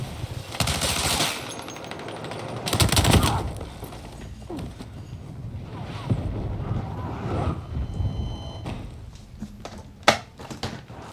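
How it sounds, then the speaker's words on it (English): Rapid machine-gun bursts from a tank rattle and boom in a shooter video game, with loud bursts, sporadic shots and a sharp crack near the end, no talk. "Oh, the tank's hitting me."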